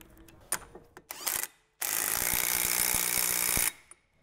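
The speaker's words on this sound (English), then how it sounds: "I'm just gonna zap that up with the impact gun." Small electric impact gun spinning down a wheel hub nut on a Mini, a few short clicks and taps, then a loud continuous rattling hammer burst of about two seconds that cuts off cleanly.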